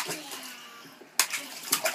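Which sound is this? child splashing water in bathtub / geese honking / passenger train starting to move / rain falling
child splashing water in bathtub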